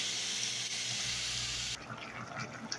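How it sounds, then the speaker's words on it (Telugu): Water pours in a steady, fairly faint gush into a pan of Rajasthani chicken curry simmering in oil and masala paste, and the pouring changes character partway through. "ఇప్పుడు ఇందులో కొన్ని వాటర్ వేసుకోవాలి."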